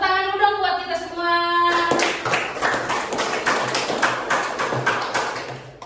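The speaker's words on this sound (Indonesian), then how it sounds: "Tepuk tangan dulu dong buat kita semua." Applause from a seminar audience starts abruptly after a sustained voiced tone and carries on as dense, loud, close clapping with rhythmic bursts for several seconds.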